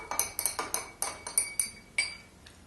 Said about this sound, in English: You can give it a little bit of a stir.